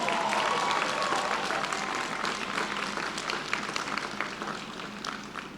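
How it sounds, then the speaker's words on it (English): Warm audience applause at a university Founder's Day convocation, a dense, loud burst of many people clapping that holds steady and slowly eases, with no talking over it. "Give them another warm round of applause."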